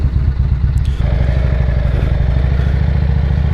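Motorcycle engine idling and running steadily on a test ride, a close, loud continuous rumble with a throbbing low pulse, a brief mechanical clatter near the start, no voices.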